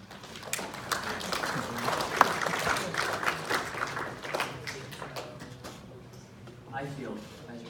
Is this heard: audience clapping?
yes